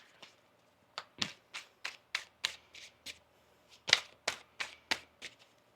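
Tarot cards being shuffled in a series of about a dozen crisp riffling bursts, each a short papery flutter with brief pauses between, close and fairly quiet, with no talking.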